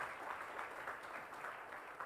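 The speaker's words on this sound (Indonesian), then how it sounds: "Ayo beri tepuk tangan yang meriah buat Tuhan" Faint, steady applause from a church congregation at an Easter service in Singkawang, a soft even wash of clapping heard from a distance.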